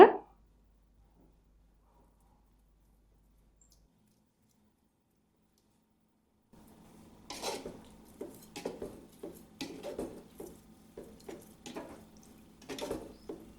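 Mutton and salt being stirred in a cooking pot for a mutton dum biryani: silence at first, then from midway a run of irregular scraping and clinking strokes against the pot, close and moderately loud.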